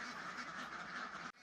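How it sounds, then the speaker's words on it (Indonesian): Laying ducks quacking on a duck farm, a dense continuous chorus of many overlapping quacks at a faint, distant level that cuts off abruptly near the end. "usaha ternak bebek petelur ini"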